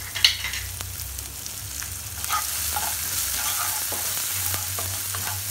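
Chopped garlic and green chilli sizzle steadily in hot oil for a broccoli and potato dish, with a constant close frying hiss, a few stirring clinks and scrapes, and no talking.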